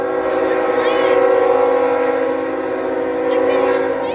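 The horn of intermodal freight train Q135 blares loud and sustained with rich steady tones, close by and continuous throughout.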